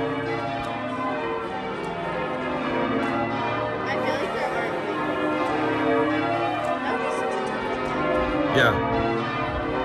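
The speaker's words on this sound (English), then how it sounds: "there's actually people up there ringing the bells" Church bells ring at York Minster in York's old town, a dense, continuous peal of overlapping tones that stays steady and fairly loud throughout, while a brief voice speaks over it.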